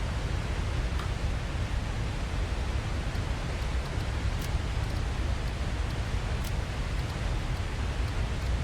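Waterfall in the video game Satisfactory: an unbroken hiss of pouring water, even and fairly near, with faint splashy crackles and no voices.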